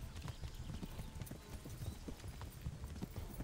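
Rapid clip-clop of horse hooves galloping in a steady driving rhythm, close and fairly loud, with no talking, from the video game Kingdom Come: Deliverance.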